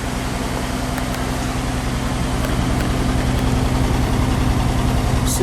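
A 1954 Nash Healey Le Mans Coupe engine idles smoothly and steadily, close up, as an even low rumble with a faint rhythmic pulse and no talking.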